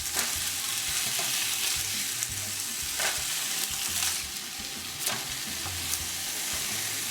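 Onions for hamburger steak fry in a pan beside lean ground beef, giving a continuous crackling sizzle with occasional stirring scrapes, close and steady without voices.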